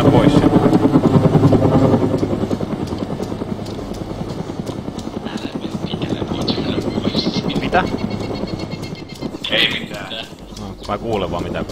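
A military helicopter in a combat video game flies close overhead, its rotor thumping in a fast, steady rhythm throughout while a person talks over it.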